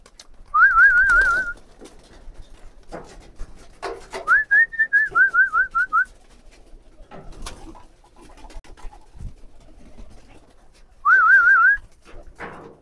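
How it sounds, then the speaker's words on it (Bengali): Pigeons coo in short, clear warbling bursts during feeding, three distinct calls close by, separated by quieter stretches with faint rustling and movement. "দেখেন আমার সব কবুতর এখানে আছে, আর এখন সবার জন্য খাবার নিয়ে এসেছি।"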